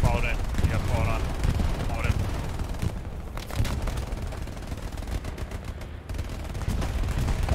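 Enemy bombing and gunfire in a war video game skirmish: dense rumbling explosions and rapid shots fill the whole stretch, with a voice calling out briefly near the start.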